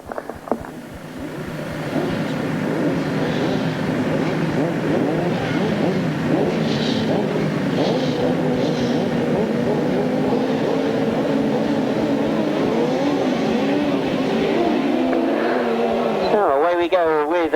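Grasstrack racing motorcycles at a 1993 meeting at Collier Street roar steadily through a bend, their engine tones rising and falling for the whole stretch while a commentator talks over them.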